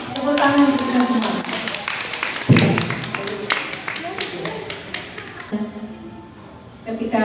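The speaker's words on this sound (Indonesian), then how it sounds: "Tepuk tangan untuk kita semua." A small group at a reading and writing literacy workshop claps briefly, with distinct individual hand claps and taps mixed among people talking nearby.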